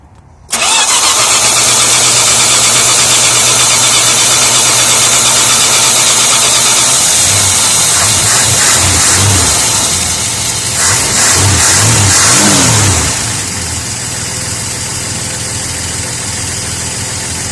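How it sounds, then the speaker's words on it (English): A car engine cranks briefly and catches, then settles into a loud, steady idle up close, with a couple of revs partway through. "the engine will crank over probably quickly"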